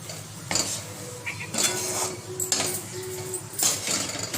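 A spoon stirs and scrapes a thickening sweet beetroot mixture in a pan on the stove, with rhythmic metallic clinks and scrapes every second or so, close and moderately loud, no talking.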